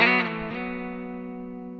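Guitar plays the opening lick of a song, a bright picked attack sliding into sustained notes that ring on and slowly fade, heard alone with no talking.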